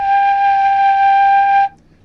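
A quena flute sounds an open E, one steady, clear, breathy tone held for under two seconds and then cut off, loud and close, with no talk.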